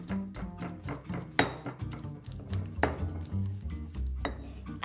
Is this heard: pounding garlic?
yes